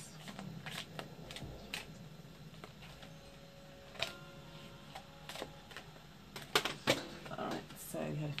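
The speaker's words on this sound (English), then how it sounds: "we're going to pull some cards here from the Wisdom of the Oracles deck for you" Wisdom of the Oracles oracle cards being shuffled, a soft continuous riffle and slide of card stock with occasional sharper flicks and taps, close and fairly quiet, with a low hum beneath.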